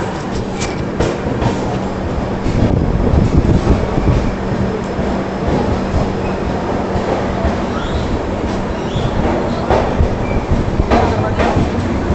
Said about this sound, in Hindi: जयपुर के प्लेटफॉर्म नंबर 1 पे हमारी योगा एक्सप्रेस का अराइवल हुआ है।